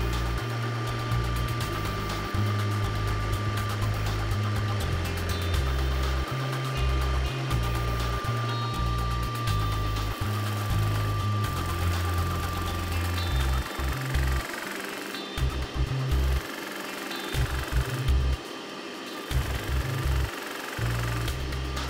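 A homemade drum sander fitted with 120 grit paper spins on a drill press while a shop vac pulls dust through its collection hose, making a steady, loud motor drone and whine that runs unbroken throughout.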